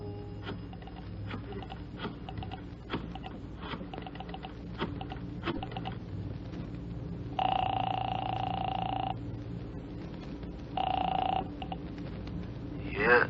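A telephone rings on an apartment line in a radio drama, two distinct bursts of ringing separated by a pause, heard over a faint background bed of low rumble and ticking.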